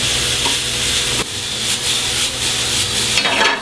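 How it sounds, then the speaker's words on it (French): Mushrooms sweat in a hot frying pan, giving a steady loud sizzle. A utensil stirs through them with scraping strokes, heard close up. "Champignons dans la poêle, je les fais suer un petit peu comme ça."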